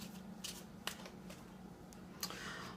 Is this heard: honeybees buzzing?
no